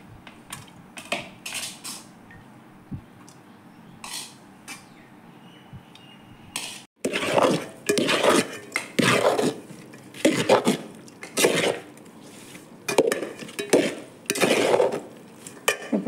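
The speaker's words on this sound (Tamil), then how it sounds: "லெமன் ரைஸை கிண்டிக்கலாம்ப்பா" A metal spoon scrapes and clanks against a pan while lemon rice is stirred, first light sparse clinks, then louder, rhythmic bursts of scraping close by, with no talking.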